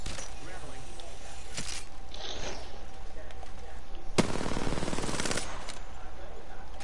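Bursts of automatic gunfire in Apex Legends, a rapid rattling volley standing out over steady game background noise, with a second louder stretch of shots near the end; people talk over it.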